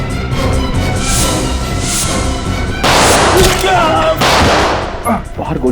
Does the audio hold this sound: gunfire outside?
yes